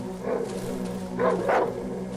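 A dog enemy in the horror game Darkwood gives a few snarling barks over a low droning backdrop, with one bark early and two close together near the end.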